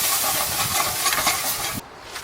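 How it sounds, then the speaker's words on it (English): Stock poured into a hot pan on a camp stove for deglazing, a loud steady sizzling hiss with bubbling that cuts off sharply near the end, then a brief fainter hiss. "we're gonna deglaze that pan with a little bit of that stock"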